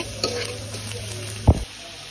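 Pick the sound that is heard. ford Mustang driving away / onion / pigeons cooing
onion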